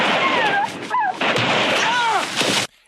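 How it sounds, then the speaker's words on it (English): Gunshots and yelping dogs in a First Blood film sequence: loud sharp cracks with whining, pitch-sliding yelps between them, then a sudden cut to silence. "We get a couple of gunshots and a couple of dogs yelping and then silence."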